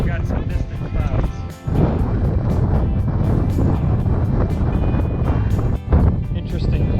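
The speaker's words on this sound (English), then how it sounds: "Winds are still whipping" Strong wind buffets a microphone on an exposed mountain hike, a loud, continuous roaring rumble with gusty surges and two brief lulls, up close and dominating the scene.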